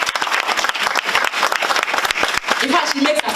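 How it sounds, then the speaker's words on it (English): An audience at a public forum on technical and vocational education in Kumasi, Ghana, claps for a woman being honored, dense steady applause from start to finish with a few voices mixed in. "Let's clap for this woman."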